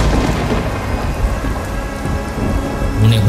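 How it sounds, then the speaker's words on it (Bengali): Thunder cracks and heavy rain pour down in a storm, a dense, continuous roar of rainfall with a deep rumble of thunder swelling near the end; no voices. "বাইরে বৃষ্টির শব্দ, ঝড়ের শব্দ, বজ্রপাতের ভয়ঙ্কর শব্দ"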